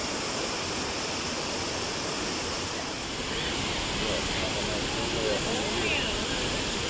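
A steady, loud roar of a waterfall near Tarsus, Mersin, fills the scene, constant rushing water with no pauses.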